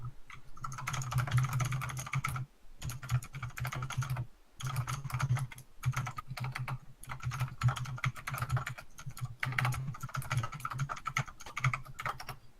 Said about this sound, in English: Thank you for tolerating my mechanical keyboard.